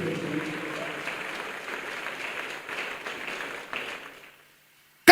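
Congregation applauding at a Christian teaching service, a steady dense wash of clapping and cheering that carries for about four seconds, then fades out abruptly into silence.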